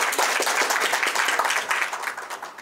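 An audience in a hall applauds the MC at a blockchain event, dense steady clapping from many hands that stays loud throughout and eases off slightly toward the end.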